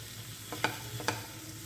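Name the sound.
frying chopped tomatoes in a pan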